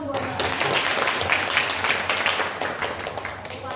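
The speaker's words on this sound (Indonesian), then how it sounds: "Tepuk tangan dong buat Mbak." A classroom group applauds with a dense burst of clapping from many hands, steady and fairly near, with voices mixed in beneath.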